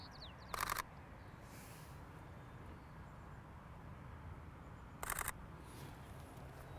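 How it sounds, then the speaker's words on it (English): A Sony a6300 mirrorless camera fires two quick shutter bursts of about 11 frames per second, each a tight rattle of clicks lasting a fraction of a second, close and crisp over a quiet background hiss. "When you're shooting it like this, when the shutter is closing down, you get that full 11 frames per second burst."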